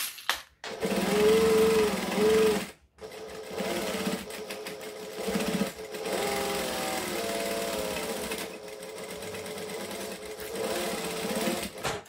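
A sewing machine stitches a clutch bag in several loud, steady runs of whirring needle strokes, broken by brief stops and restarts.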